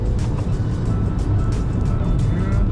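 A Honda City Hatchback is driven fast on a race track, its engine and road noise a steady, loud interior roar with tyre and wind rush, without speech.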